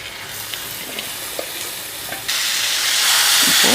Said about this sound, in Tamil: சால்ட்டு சேர்த்ததுக்கப்புறமா நம்ம கழுவி வச்சுருக்கிற சிக்கனை அதில் போட்டுடலாம்.